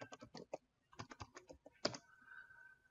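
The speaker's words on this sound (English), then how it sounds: "let's just do a puppy" Quick bursts of clicking keystrokes on a computer keyboard, close and fairly quiet, ending with a sustained faint tone.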